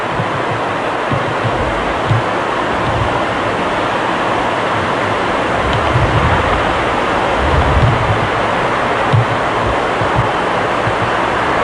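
Ocean surf rolls steadily onto a beach below a cliff, a dense, even wash of breaking waves with low rumbling swells and some wind buffeting, with no voices.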